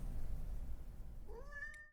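A cat hiding under a bench outside in the rain meows once near the end, a rising then drawn-out call over a low, rumbling background noise.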